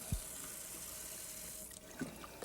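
Tap water runs steadily into a sink while dried beans are rinsed in a colander, a soft continuous splashing hiss with a couple of brief clunks.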